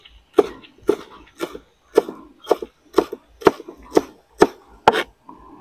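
Coriander being chopped with a knife on a cutting board, about ten sharp, evenly spaced knocks close up, loud and alone.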